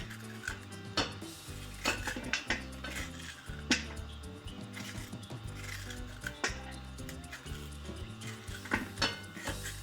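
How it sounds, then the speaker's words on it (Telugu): A knife slicing bamboo shoots into thin strips on a cutting surface, sharp crisp cuts in an uneven rhythm with light knocks, close and fairly quiet. "అన్నిటిని ఇలా సన్న సన్నగా కోసుకోవాలి"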